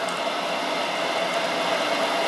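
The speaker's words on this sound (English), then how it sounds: "That fan really is the main sound you hear." Steady whirring hum of the cooling fan on a running Grizzly G0752 machine, an even, unbroken airy drone with a faint high whine, fairly quiet and close with no talking.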